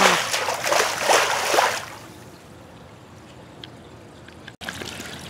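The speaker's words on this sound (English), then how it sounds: "Look at the hose water" Water from a garden hose splashing and spraying while a summer pool is set up: loud gushing spatter at first, then a quieter steady trickle and hiss.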